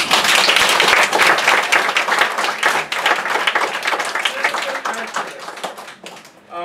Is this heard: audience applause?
yes